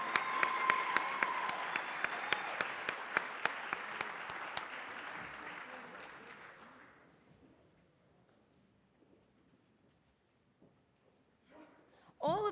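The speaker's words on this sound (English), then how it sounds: "A last round of applause." A final round of applause at a 2014 award ceremony; crisp, fairly close clapping from the crowd that gradually thins and fades out over several seconds, leaving near silence before a brief voice comes in at the very end.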